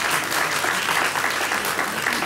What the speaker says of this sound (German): Sie wollten gerade noch mal klatschen.